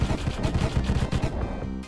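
In the video game Deathstate, a fire tome fires waves of fire as a fast burst of punchy, rattling blasts in quick succession, dense and loud, thinning out near the end.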